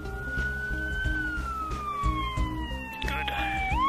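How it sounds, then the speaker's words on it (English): An ambulance siren wails steadily in a long sweeping tone that slowly falls and then shifts as it draws near, loud and continuous over a rumbling background of traffic and motorcycles. "Here comes the ambulance."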